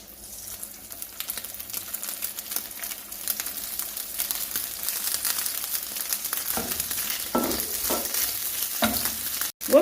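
Onion, pepper and garlic fry in olive oil on low heat as a chicken shawarma filling. A dense, steady sizzle builds gradually, with a few louder scraping stirs near the end.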